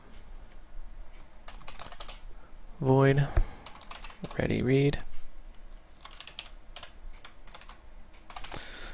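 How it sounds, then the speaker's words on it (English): Typing on a computer keyboard set up for gaming, a run of quick, light key clicks close by, interrupted by a couple of brief spoken words in the middle. "I'm just going to type it in then."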